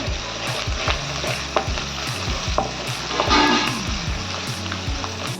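Oil sizzles and crackles steadily for several seconds, with tempering spices popping in the hot pan and a few stirring scrapes, loud and close.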